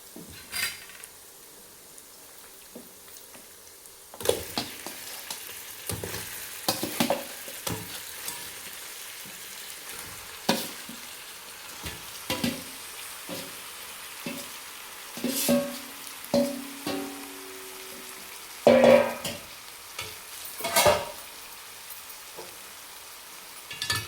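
Spiced chicken frying in hot oil, with a steady sizzle as the pieces are stirred. Scrapes and clinks of a spoon against the pan come in irregular bursts, close and moderately loud, with no talking.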